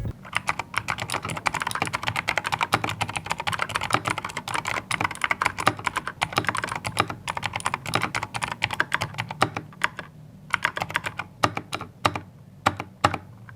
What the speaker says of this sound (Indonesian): Coba deh kalian simak typing testnya berikut ini.